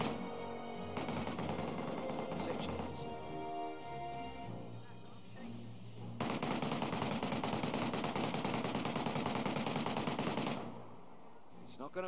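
Sustained bursts of rapid automatic gunfire in a video game, long continuous rattling runs with brief gaps, heard under some talk.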